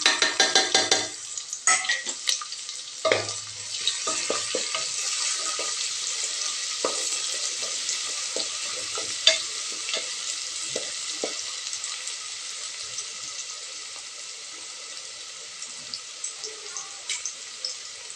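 Onions fry in ghee in a pan with a steady sizzle and hiss, while a utensil stirs them in repeated scraping strokes. The cooking noise is close and continuous, and no one talks over it.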